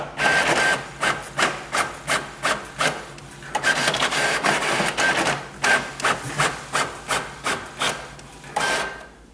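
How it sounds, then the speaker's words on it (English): An Epson WorkForce Pro WF-4630 all-in-one printer runs duplex printing: rhythmic mechanical feed strokes and rubbing paper movements repeat steadily, with a pause and a longer whirring pass midway, close and clear. "And you'll notice that duplex printing is always slower, but it's still fast enough for me."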